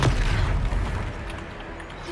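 A Confringo spell explosion in the Hogwarts Legacy video game, a deep booming blast at the start that rumbles and fades over about two seconds.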